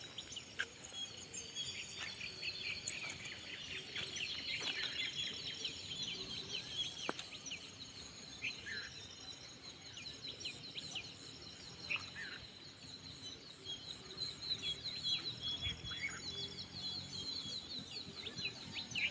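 Faint, distant birds chirp and call intermittently over a quiet morning farm, with a soft continuous insect hum beneath and no talking.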